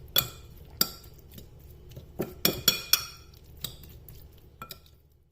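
Chicken pieces being mixed with chopped garlic and yogurt in a bowl, a spoon knocking and clinking against the dish in scattered bursts with quiet pauses between, close and clear.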